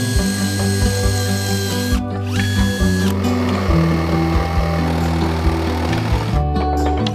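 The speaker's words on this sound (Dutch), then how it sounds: "Ik ga nu even aan de binnenkant van de cirkel een gat boren" A power drill whines continuously, boring a hole inside a sawn circle, its motor pitch shifting as it bites into the material, with brief pauses and restarts, loud and close.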